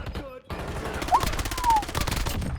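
Rapid gunfire bursts in a first-person video game firefight, loud and dense over most of the moment, mixed with game effects and a brief lull near the start.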